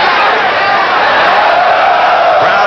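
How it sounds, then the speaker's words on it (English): A boxing arena crowd at the Sammy Serrano vs. Julio Valdez fight yells steadily and loudly, a continuous roar of many voices that fills the whole moment without letup. "Crowd yells they think Valdez was hitting low."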